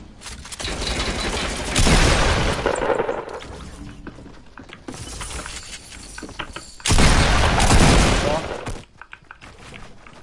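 Gunfire in Fortnite Battle Royale, loud bursts of rapid shots and impacts in two main volleys with chaotic noise between, close and dense, with a voice talking over parts of it.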